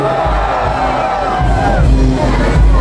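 A large crowd at the Obando dance festival shouts together on cue, a loud swelling roar of mixed voices with whoops that surges and dips over a few seconds.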